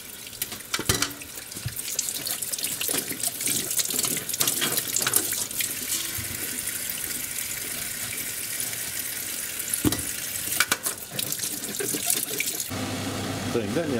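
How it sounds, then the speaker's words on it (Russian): Eggplants rinsed under a running kitchen tap, a steady loud hiss of flowing water with clattering and splashing as the vegetables are handled, broken by a brief pause near the end. "баклажаны надо помыть"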